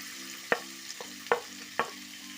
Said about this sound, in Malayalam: എല്ലാം കൂടെ ഒന്ന് വഴറ്റിയെടുക്കാം